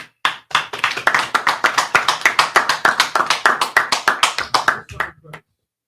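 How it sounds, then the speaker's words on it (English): A gathered group at a brotherhood class claps together in steady unison, around twenty sharp, loud, evenly spaced claps in a driving rhythm that fades out near the end. "in the meantime, clap it up."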